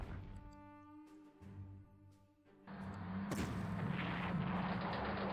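Incoming artillery in the Panzer Corps war game lands as a sudden loud blast and sustained rumbling roar, following a stretch of tonal music-like hum, with a sharp crack near its peak.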